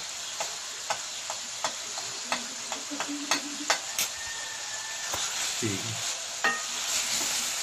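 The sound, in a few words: chicken karahi with turmeric being stirred and fried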